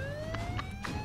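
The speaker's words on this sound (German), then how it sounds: "Mach doch mal die Sirene aus, Mann, das fällt doch auf." Police car siren in the battle royale video game H1Z1, a rising electronic tone sweeping steadily upward, with a few short bursts of game noise over a low engine hum and no talking.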